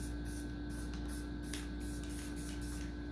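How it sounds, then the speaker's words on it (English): Spray can hissing out orange paint, a steady continuous spray with slight pulses, close and fairly loud with no talking. "Now we have the orange layer, and we spray that in other places."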